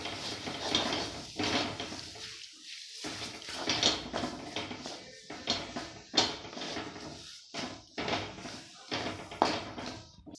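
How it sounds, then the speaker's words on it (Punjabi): Stale roti dough for milk cake being mixed by hand in a bowl with desi ghee, giving repeated soft scraping and clinking against the dish in uneven bursts, close and fairly loud, with brief pauses between strokes. "ਇਹਨੂੰ ਵੀ ਆਪਾਂ ਚੰਗੀ ਤਰ੍ਹਾਂ ਮਿਕਸ ਕਰ ਲਾਂਗੇ"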